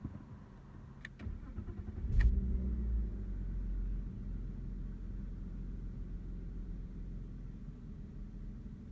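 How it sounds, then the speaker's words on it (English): Cold start of a BMW E36 3 Series inline-six after two weeks sitting on a steep incline: a short cranking whir, then the engine catches with a bump and settles into a low, steady idle rumble. "So here we go, we're going to do a cold startup."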